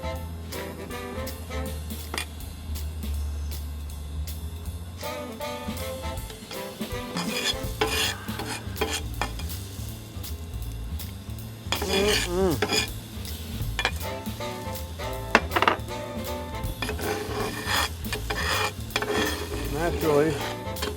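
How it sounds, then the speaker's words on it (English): An omelet sizzles on an overheated grill while a utensil stirs and scrapes it. The rhythmic metallic clatter and scraping comes close by over a steady frying hiss, with a voice talking at times. "I'm gonna attempt to make this omelet on an overheated grill"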